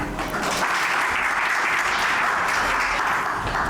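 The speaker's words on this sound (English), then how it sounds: "Big round of applause, everybody." A conference-session audience applauds in a dense, even burst of many hands clapping at once, sustained and fairly loud for the whole few seconds, with no voices over it.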